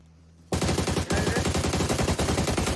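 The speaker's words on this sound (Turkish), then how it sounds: "Nereye sıkıyorsun oğlum? Nereye sıkıyorsun?" Rapid automatic gunfire from a shooter video game, loud and dense, bursting in after a brief quiet start and pounding on continuously with repeated shots.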